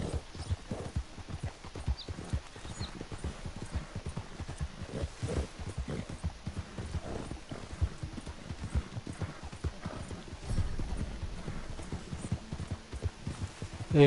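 Horse hooves gallop steadily in Red Dead Redemption 2, a fast, continuous clip-clop of a ridden horse held at an even loudness for the whole stretch, with no talk over it.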